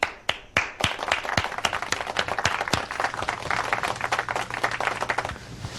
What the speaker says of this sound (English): Please give a warm round of applause for Timmy.